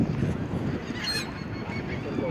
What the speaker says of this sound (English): Tons of seagulls all over the place.